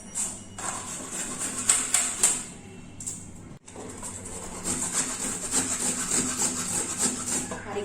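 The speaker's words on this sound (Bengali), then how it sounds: "এইভাবে ঘষে নেব পুরো নারকেলটা।" Fresh coconut, cut into pieces, is rubbed by hand against a metal grater in a kitchen, giving close, scratchy rasping strokes in uneven bursts with a brief pause midway, and no talk.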